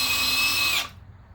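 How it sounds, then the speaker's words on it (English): A power drill whines steadily at high pitch as it drives a screw into soft wood, then cuts off abruptly, leaving near silence. "So I'm going to show you how long it takes to drive a screw with this drill."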